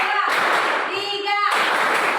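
Hand clapping from a group playing a counting clap game led by a teacher, with bursts of broadband claps overlapping children's and adult voices throughout the short stretch.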